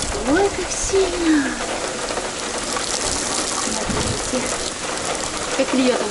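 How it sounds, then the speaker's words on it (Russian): Heavy rain pours down outside an open window, a dense continuous roar of water with a few faint voices and small sounds mixed in throughout, close and loud. "Видите, как льет?"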